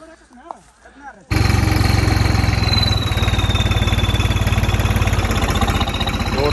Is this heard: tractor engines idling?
yes